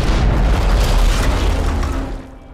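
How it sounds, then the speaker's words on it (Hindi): A loud, booming rocket explosion tears through a room in the video game Hitman Absolution, a dense broadband blast that rumbles steadily for about two seconds before tapering off, with no voices. "ओ शिट भाई उड़ा दिया हुए रूम को।"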